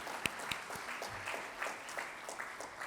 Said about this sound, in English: So a big round of applause for everyone.